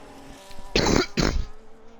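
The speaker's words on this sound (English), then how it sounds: "do have a bit of a cough, so if you do hear that" Two harsh, broadband coughs in quick succession, close and fairly loud, with near silence around them.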